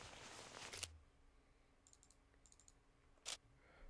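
Computer mouse clicks during a SCUM multiplayer session: two sharp, close clicks about two and a half seconds apart, with faint fainter ticking between them, otherwise quiet.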